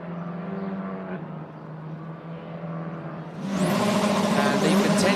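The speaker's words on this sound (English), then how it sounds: "as the cars leave the pit straight and back onto the circuit again" Formula 4 racing cars leave the pit straight at a UAE circuit, a steady engine drone that swells into a louder, brighter roar as they pass near, under a low commentary voice.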